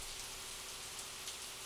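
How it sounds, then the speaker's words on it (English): Rain falls steadily in a soft, even hiss with faint scattered drops, quiet and continuous throughout. "all I heard was the sound of falling rain"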